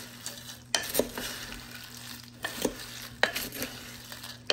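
A spoon stirs Chex mix inside a crockpot, producing dry rustling scrapes and a few sharper clinks against the pot in an irregular rhythm, close and fairly soft.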